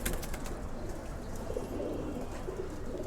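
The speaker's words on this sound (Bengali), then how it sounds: "আমাদের যে স্টকের খাঁচাগুলো আছে এর ভিতর থেকে আমি আপনাদের সিলভার কবুতরগুলো দেখাই দিছি।" Silver pigeons in stock cages coo in soft, repeated low calls, several birds close by, with faint chirps and light rustling over steady background noise.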